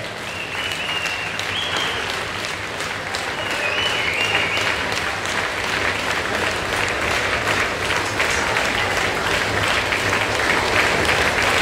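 A crowd at a glassblowing competition claps steadily to encourage glassblower Heikki Punkari as he works, sustained applause that grows slightly louder, with a few voices or whistles early on.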